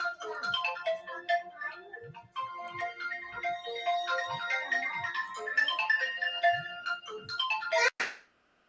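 A phone ringtone plays a bright electronic melody of repeated chiming notes for several seconds, then cuts off abruptly with a short click.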